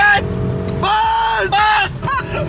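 A used car's engine revs hard as the driver accelerates, rising in several loud, whining surges with brief dips between them, while people shout and talk excitedly over it.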